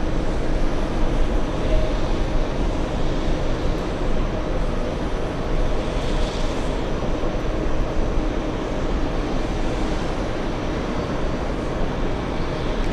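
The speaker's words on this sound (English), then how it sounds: "the LA flight 767 Delta from Los Angeles landing on the closest runway to us, 22 right" A Delta 767 from Los Angeles landing on runway 22 right at JFK, heard as a broad steady roar of jet noise that holds loud and unbroken throughout, with no talk over it.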